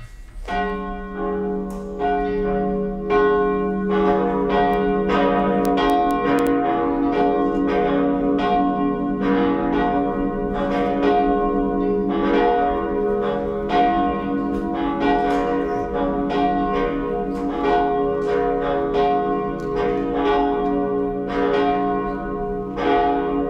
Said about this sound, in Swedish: Så lyssnar vi strax till klockringningen som ringer oss samman.